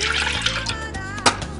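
Nut milk poured into a ceramic Starbucks mug, a short, close trickle of liquid running in with a small splash near the end, and faint background sounds underneath.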